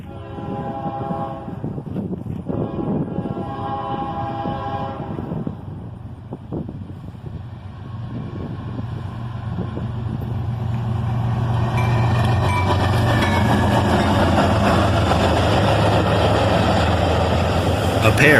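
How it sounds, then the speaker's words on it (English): Manifest freight train led by a pair of ES-40DC locomotives, a loud continuous rumble and wheel roar that swells and grows brighter as the train draws near, with someone talking over the first half. "A pair of ES-40 DCs lead this manifest train."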